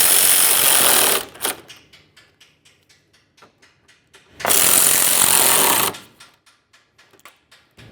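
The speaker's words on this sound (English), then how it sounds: "Now we can tighten up these two 10mm headed mounting bolts." Ratchet tightening the 10mm battery mounting bolts on a 1999-2006 Chevrolet Silverado 1500: two long bursts of rapid clicking ratcheting, each followed by a train of separate sharp clicks, close and loud with no talk.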